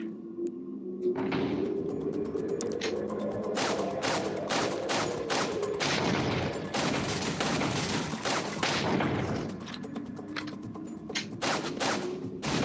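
Gunfire on the Resident Evil 4 VR shooting range, a rapid string of sharp shots in irregular bursts, loud and close, with no voices.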